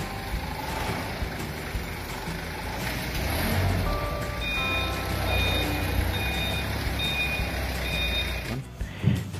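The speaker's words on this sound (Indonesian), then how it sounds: "Wow, ada juga forklift di sini teman-teman." A toy forklift gives off a series of high electronic reversing beeps over a low motor hum and a busy background of play noise, then stops abruptly near the end.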